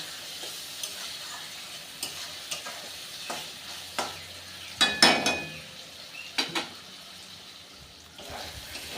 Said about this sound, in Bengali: খুব ভালো করে কষিয়ে নেব যতক্ষণ পর্যন্ত আদা রসুনের কাঁচা গন্ধ যায়